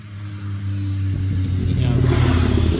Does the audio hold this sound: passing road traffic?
yes